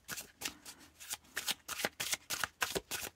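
A tarot card deck being shuffled by hand in a rapid run of about a dozen crisp riffling bursts, close and fairly quiet, with no talking.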